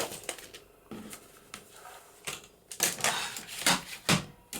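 Paper being trimmed for a junk journal page, heard as a series of short crisp snips and rustles, close and fairly loud, with irregular spacing and a busier cluster toward the end.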